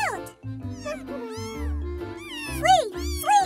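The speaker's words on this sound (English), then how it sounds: "There were three kittens." Several kittens meow in a children's story cartoon, a string of high, rising and falling mews close up that overlap and repeat throughout.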